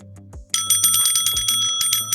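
A bicycle bell is rung repeatedly in quick succession, bright metallic dings close and loud, preceded by a short low tone.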